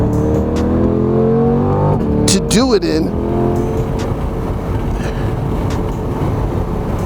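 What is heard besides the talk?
2020 Corvette C8 driving on race track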